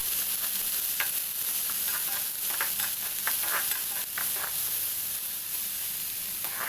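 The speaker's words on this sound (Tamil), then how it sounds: "இது எல்லாத்தையும் நல்லா வதக்கணும்." Onion and boiled chickpeas sauté in a pan with a steady frying sizzle and broad hiss, while a spatula scrapes and stirs in scattered light strokes throughout.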